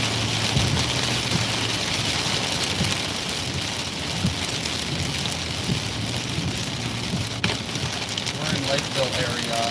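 Heavy rain pours steadily during a severe thunderstorm in the Lakeville area of Minnesota, a loud continuous wash of drops close by with faint low rumbles underneath.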